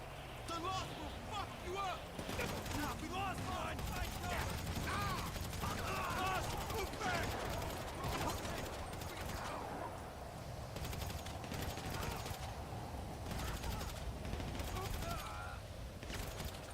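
Bursts of AK assault rifle fire in GTA Online, rapid crackling volleys mixed into a busy game soundscape while a person talks over it at a moderate level.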